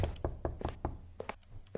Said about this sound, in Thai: เคาะหน่อยก็ได้